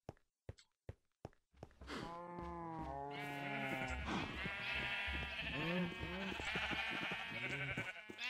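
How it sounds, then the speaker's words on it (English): Minecraft sheep bleating repeatedly in the block-building video game, a few wavering bleats following a handful of sharp footstep-like thunks, loud and close with no talking. "Hey, sheep."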